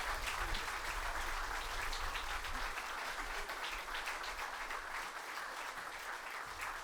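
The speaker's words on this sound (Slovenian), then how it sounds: "Iskreno čestitamo in podaljšujemo aplavz" Sustained applause fills a hall during a ceremonial council session, a steady even wash of many hands clapping at moderate distance for the whole stretch, with no voices over it.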